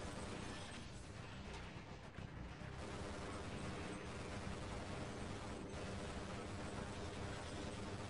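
Machine gun fire in the video game Half-Life, a loud, continuous wall of rapid shots and crashing impacts that runs without a break from start to finish.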